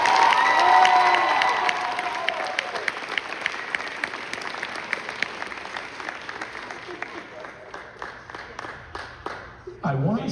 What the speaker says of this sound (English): round of applause for Annie